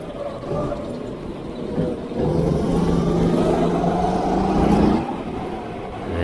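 Racing go-karts at the AusCarts track in Port Melbourne: a continuous engine drone that swells louder partway through as karts pass nearby, then eases back, with no talking.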